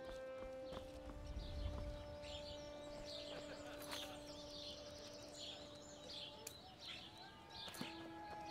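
A horse's hooves clip-clop in the video game Skyrim, a steady soft rhythm of hoofbeats under game ambience with scattered bird chirps and a faint tonal drone.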